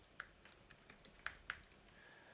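Soft, faint clicking of a computer keyboard as a short project description is typed, a sparse irregular run of individual keystrokes with a few sharper taps, close and alone.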